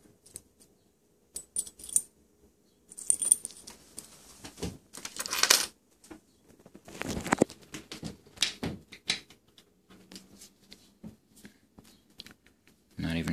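Metal keys from the pockets of heavy cargo work pants clink and jangle in scattered bursts, close and quiet, with gaps of near silence between handlings.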